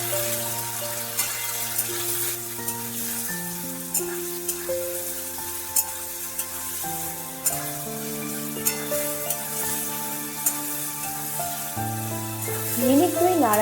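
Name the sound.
stirring hog plums frying in a pan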